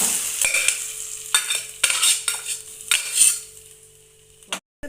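Boiled mutton intestines stirred in a frying pan, with repeated metal spatula scrapes and clanks against the pan over a light sizzle. The strokes come in an irregular rhythm, and a final knock is followed by silence.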